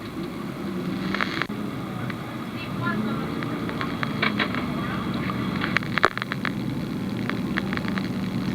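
Fire burning after a race car crash at Stafford Speedway, where a Pro Stock car flipped onto its roof. Faint crackling and popping sit over a steady low rumble of background noise, with voices faintly present.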